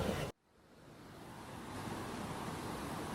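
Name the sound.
strong rush of water at Bustos Dam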